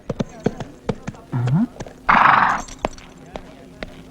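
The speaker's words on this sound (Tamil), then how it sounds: "என்னையா குதிரையில வந்திருக்க" In a Tamil film scene, a horse gives a short, loud neigh and a burst of snorting while its hooves clip-clop in a steady, close rhythm throughout.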